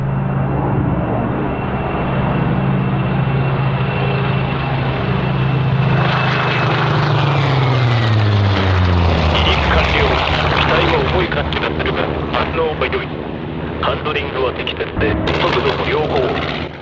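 A Nakajima Ki-87 fighter's engine in a video game throttles up, a loud, close, continuous propeller roar whose pitch shifts and swells as power builds, with rumbling and crackling texture throughout.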